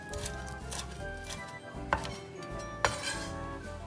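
Brisk knife chopping of Chinese chives on a cutting board, a steady run of quick taps with a couple of sharper, louder knocks, close by.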